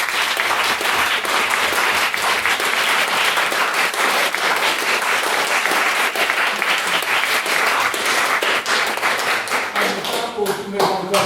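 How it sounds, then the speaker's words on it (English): Sustained round of applause from an audience in a debating chamber, welcoming a maiden speech; steady, dense clapping that carries on throughout at full loudness before thinning slightly near the end. "I'd just like you all to give her a round of applause."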